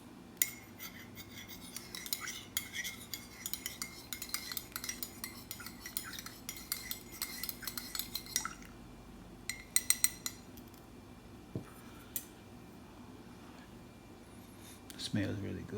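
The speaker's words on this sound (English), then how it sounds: "I'm gonna use my foreign MRE spork to stir this up" Foreign MRE spork stirring instant coffee in a cup of water: rapid, light clinking and scraping at close range for several seconds, then a few separate taps, with a voice speaking alongside.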